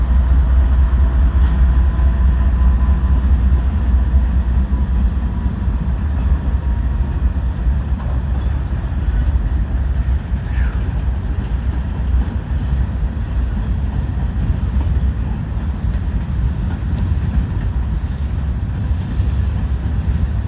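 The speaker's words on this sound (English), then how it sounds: "we got a transfer train coming from Sharon Yard in Sharonville" A Norfolk Southern transfer train rolls past running long hood forward, giving a steady, loud low rumble and rail roar that holds for the whole stretch, close by, with wind buffeting the microphone and no talking.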